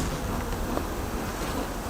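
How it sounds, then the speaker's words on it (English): A low, steady buzz of many honey bees, continuous and close, with a faint breezy hiss. "These are all worker bees."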